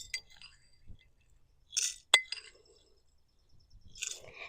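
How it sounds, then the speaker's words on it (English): Mustard seeds drop into glass canning jars for garden-grown pickles, making a few scattered bright clinks and small rattling bursts separated by quiet pauses. "Next, I'm going to put a teaspoon of mustard seeds in each jar."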